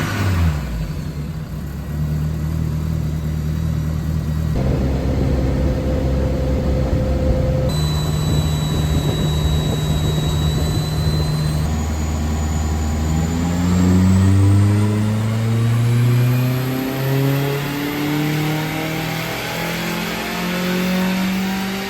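A Vauxhall Viva VXR with a swapped engine revving on a dyno run, the close, loud engine note climbing steadily through the gears in long rising pulls.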